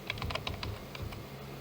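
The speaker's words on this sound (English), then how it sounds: "let me type something here" Quick light keystrokes on a computer keyboard, a short flurry of close clicks that slows to a few scattered taps over a faint background hum.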